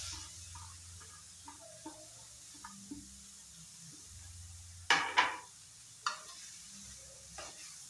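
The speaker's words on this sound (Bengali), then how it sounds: "এখন আমি দিয়ে দেবো এখানে গ্রেট করে রাখা পনিরটা।" Grated paneer being stirred in a hot pan, soft frying sizzle under scattered scraping clatters of a spoon against the pan, with a few louder knocks near the end.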